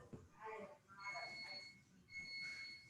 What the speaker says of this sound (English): Just turn the power off so it stops beeping.